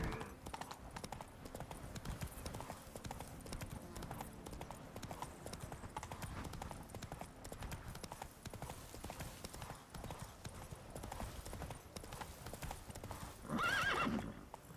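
A horse gallops in The Witcher 3 video game, with rapid rhythmic hoofbeats throughout and a loud neigh near the end.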